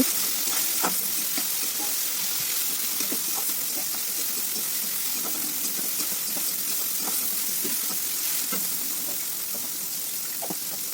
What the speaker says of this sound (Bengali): সামান্য জল দিয়ে মশলাটাকে এবার কষিয়ে নিচ্ছি